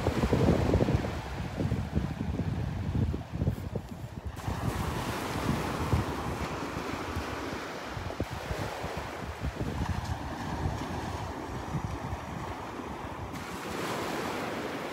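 Ocean surf washes steadily onto the beach at Delnor-Wiggins while someone walks along a sandbar, with broadband wave noise and gusty wind buffeting the microphone throughout, no voices.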